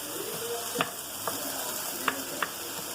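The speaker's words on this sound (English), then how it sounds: "we got our hamburger and our onions going here" Hamburger meat and onions frying in a pan give a steady close sizzle, with a few sharp clicks and scrapes of a utensil against the pan scattered across it.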